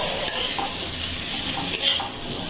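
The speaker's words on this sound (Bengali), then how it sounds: "একটুখানি মিশিয়ে নিচ্ছি চিংড়ি মাছ।" Fried shrimp stirred into spiced potatoes and peas in a pan, a continuous close frying hiss with soft stirring scrapes, brief and unvoiced.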